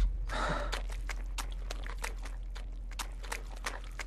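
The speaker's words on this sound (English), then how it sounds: "my dude is heavy breathing like a champ" A character in the horror game Folklore Hunter breathes heavily, a strong gasp at the start followed by a run of short, sharp breaths and thuds over a low steady hum, close and alone.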